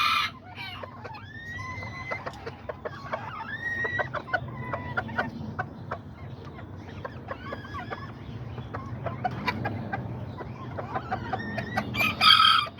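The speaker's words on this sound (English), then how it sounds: "here's my copetonas with my white rooster, which we all love to see" A white rooster crows repeatedly among clucking hens in a backyard flock, loud and close, with overlapping calls and chicken chatter throughout and no talking.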